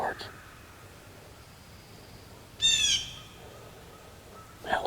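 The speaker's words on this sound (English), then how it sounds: "That last time he gobbled, he was close." A wild turkey gobbles once at middle distance in thick woodland cover, a short rattling burst standing out clearly against quiet forest background, with a faint bird call near the end.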